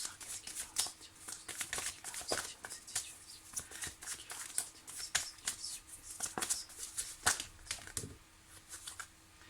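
Oracle cards are shuffled by hand for a reading, giving quick, close riffling and flicking bursts in an uneven rhythm, with no talk.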